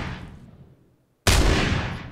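Micro Uzi fire in PUBG: a fading tail of shots tapers into near silence, then a sudden loud, dense burst of close gunfire erupts and rings on.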